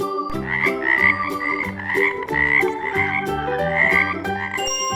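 A frog croaks repeatedly in a loud, steady rhythm, set over bright, jingly children's music that plays throughout.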